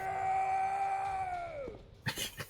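A dying enemy in the PlayStation 2 game Silent Hill 2 lets out a long, sustained, screech-like tonal cry that slowly drops in pitch, followed by a few short, sharp bursts at the end.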